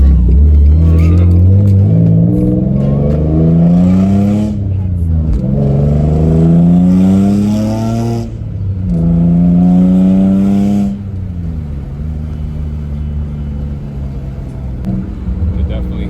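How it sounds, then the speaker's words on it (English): A Nissan 350Z's VQ35DE engine with a plenum spacer and intake revs up repeatedly through the gears with a strong intake roar, each pull climbing in pitch before dropping, ending in a lower steady drone. "You can definitely hear that intake too."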